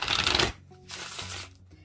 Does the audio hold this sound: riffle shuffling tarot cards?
yes